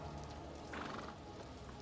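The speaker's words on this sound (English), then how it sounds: "The horse snorts and shows you its large teeth." A horse in the Warhammer 40k: Rogue Trader video game gives a short snort and whinny, quiet and set against a low ambient game backdrop.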